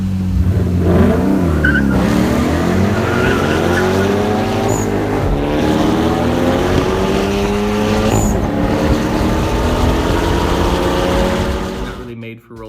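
A light front-wheel-drive Kia Forte with a tight gearbox drives hard, its engine droning loudly and climbing in pitch through the gears, with brief tire squeals. Voices are heard under the engine before it cuts off at the end.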